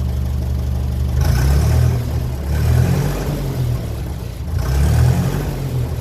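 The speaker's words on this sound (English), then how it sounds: "that engine to me now sounds like it's running very good" A repaired car engine idles smoothly and is revved up and down in several rising and falling swells, close and loud, with no misfiring or spitting evident.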